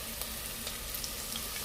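Garlic stir-frying in a pan with curry leaf, a steady close sizzle with faint scraping crackles throughout, no voices.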